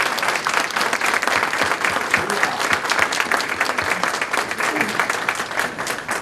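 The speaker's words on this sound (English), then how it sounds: "let's give them a round of applause" An audience applauds at a Veterans Day ceremony in Wareham, a steady, dense round of clapping that holds at full strength for the whole stretch with no voices over it.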